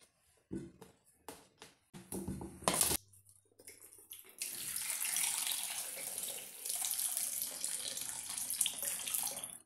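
Tap water pours steadily into a pot for boiling potatoes for a fasting-day dish, a continuous splashing rush after a few earlier clanks and short knocks of kitchen handling.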